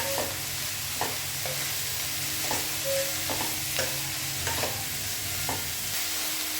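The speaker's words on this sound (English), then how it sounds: "potatoes and carrots, and saute it well" Potatoes and carrots sautéing in a pan: a steady soft sizzle broken by a few spatula scrapes and stirring knocks, close by with no voices.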